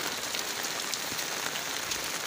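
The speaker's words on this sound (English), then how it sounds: "And it's raining." Steady rain patters on surfaces across a rainforest, a dense continuous hiss with scattered drop hits, fairly close and even throughout, with no voices.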